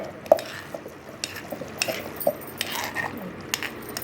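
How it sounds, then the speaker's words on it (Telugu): Coriander tomato chutney being ground by hand on a stone, a series of scattered close scraping and knocking strokes in an uneven rhythm with occasional sharper clinks, no voices. "ఇలా ఇలా రుబ్బేసుకోవాలి."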